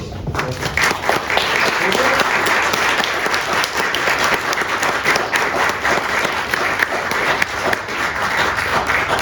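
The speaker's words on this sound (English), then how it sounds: "One last round of applause." A church audience applauds after a concert of Italian songs, loud, dense clapping from a full room that swells quickly and stays strong and steady throughout.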